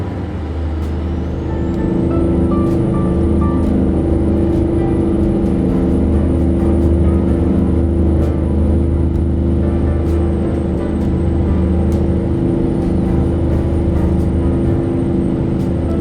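A truck engine drones steadily while hauling through wintry Texas in American Truck Simulator, a loud, close, low rumble with a whining tone rising early on and then holding level throughout.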